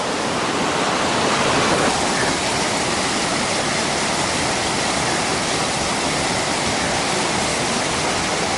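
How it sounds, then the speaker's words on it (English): Waterfall along the Collins Trail in Savage Gulf, a steady, loud broadband roar of falling water that rushes on without pause from start to finish, with no voices over it. "Here's our waterfall again."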